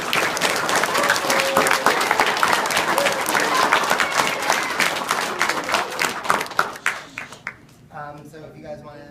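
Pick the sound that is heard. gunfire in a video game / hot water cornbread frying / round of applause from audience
round of applause from audience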